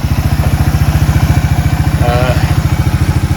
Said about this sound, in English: A lot of the rattles you're hearing is coming from that disc there just rattling on the wheel studs